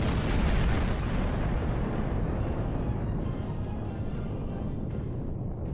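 Torpedo hits blowing up starships in the Star Trek Online space combat game, a dense continuous rumbling barrage of explosions, loud and steady with no talk.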